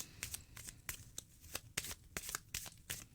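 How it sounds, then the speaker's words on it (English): An oracle card deck, Messages From the Wee Folk, being shuffled in quick, rhythmic riffles, crisp snapping bursts repeating close up with no talking. "I'm going to keep shuffling."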